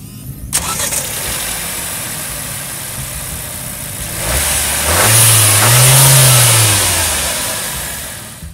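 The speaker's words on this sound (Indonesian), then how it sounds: "Kita pengen dengerin dulu suaranya mesinnya kayak apa sih." Mercedes-Benz GLB 200 engine cranks and fires up, settling into a steady idle before a couple of rising and falling revs, recorded close with no talking.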